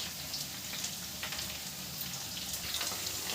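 Something frying in a non-nonstick pan for lemon garlic butter chicken, a faint, even sizzle with light crackles, short and without speech.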